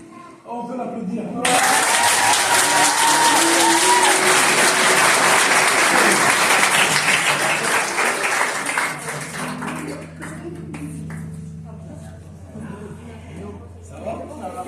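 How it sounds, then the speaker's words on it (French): A church congregation breaks into sustained applause after a baptism, loud dense clapping that swells quickly, holds, then thins out as low voices and room noise return. "On peut l'applaudir."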